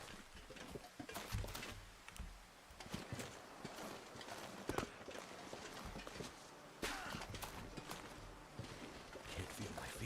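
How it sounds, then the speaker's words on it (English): Footsteps in the survival video game The Long Dark: a run of repeated, fairly loud steps with a clopping, crunching quality, continuing through most of the stretch among other game noise. "I heard footsteps again"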